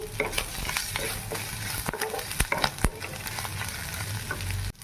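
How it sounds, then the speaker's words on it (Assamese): Salted, turmeric-dusted vegetables frying in a pan while being stirred, a steady close sizzle with scraping utensil strokes and sharp clicks scattered throughout, alone with no talking. "এতিয়া মই নিমখটো দি দিম আৰু হালধি গুড়িও দি দিম আৰু এইখিনি ধুনীয়াকৈ ভাজিম"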